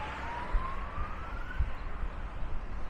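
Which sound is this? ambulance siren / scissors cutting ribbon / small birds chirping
ambulance siren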